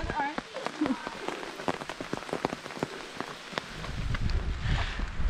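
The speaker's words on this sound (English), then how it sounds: "It's now raining harder than it was before" Rain falling outdoors on a hike up to an abandoned Air Force radar base in rural Vermont, a steady patter of close drops on a surface that grows heavier and denser toward the end, with no talking.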